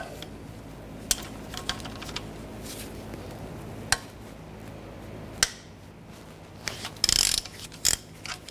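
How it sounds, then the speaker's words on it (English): Socket ratchet on a 14mm bolt of a 2008-2013 Honda Accord engine oil pan, giving sparse mechanical clicks and a few sharper metallic ticks over a low steady hum, fairly quiet and close. "Move these two bolts using our 14mm socket and ratchet"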